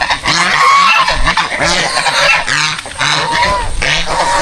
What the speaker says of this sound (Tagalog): Oh, tingnan yung gansa oh.